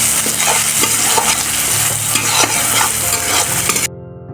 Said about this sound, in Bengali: এরপর হাফ চা চামচ হলুদ গুঁড়া, হাফ চা চামচ লঙ্কার গুঁড়া ও হাফ চা চামচ জিরা গুঁড়া দিয়ে ভালোভাবে কষিয়ে নেব